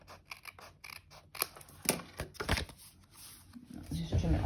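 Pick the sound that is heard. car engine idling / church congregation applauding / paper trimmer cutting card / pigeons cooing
paper trimmer cutting card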